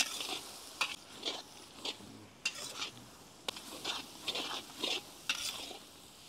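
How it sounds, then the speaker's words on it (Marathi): Ginger, garlic, green chili and coriander paste frying in a pan for Maharashtrian mutton chusta, with a soft continuous sizzle and regular spoon-stirring scrapes repeating about once a second, quiet and close, without any talk. "आपण आता अद्रक, लसूण, हिरवी मिरची, कोथिंबीरची पेस्टचा कच्चापणा जाऊस्तोवर व्यवस्थित परतून घेऊ"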